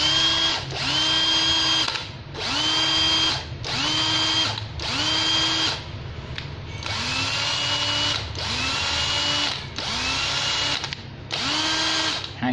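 A Japanese-made cordless drill runs at high speed in repeated bursts, each starting with a rising whine, revving steadily and cutting off, about eight times in a row, loud and close.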